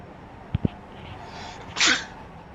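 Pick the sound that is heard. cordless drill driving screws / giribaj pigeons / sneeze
sneeze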